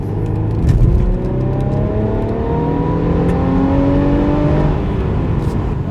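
A 2021 Mercedes-Benz E350 4Matic's four-cylinder petrol engine revs up through rising gear tones while accelerating, a loud, continuous drone with climbing pitch, recorded from inside the car.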